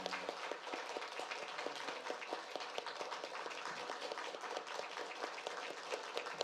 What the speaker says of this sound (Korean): 여러분 박수 한번 해주시면 좋겠습니다.